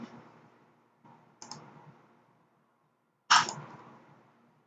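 Three separate computer mouse clicks in a quiet room, close and crisp, the last one loudest, with short pauses between them and no talking.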